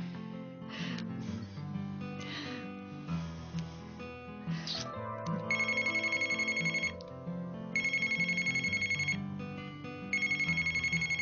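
A phone ringtone plays in repeated bursts over background music, loud and close, ringing three times with short gaps between.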